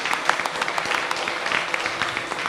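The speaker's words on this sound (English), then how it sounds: "Let's have a round of applause to all of them." Applause from the audience at a radio station town hall meeting, a steady wash of many people clapping for the panelists, moderately loud and even throughout.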